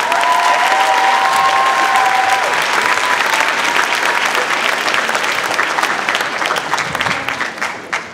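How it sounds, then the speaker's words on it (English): A school theater audience at a high school production of Les Miserables breaks into loud, sustained applause that gradually thins and fades toward the end, with a brief whistle near the start. "So give them a round of applause."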